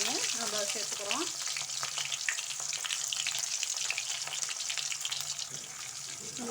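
Chopped big onion sautéing in hot oil for bitter gourd thokku, a steady bright sizzle and frying hiss running throughout, close and loud, with occasional stirring clatter and a brief voice near the start.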